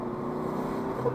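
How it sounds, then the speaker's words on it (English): A tractor or bulldozer engine runs near motorcycles, giving a steady, close, continuous mechanical rumble with no pauses and no voices over it. "Everybody stay well clear of this tractor."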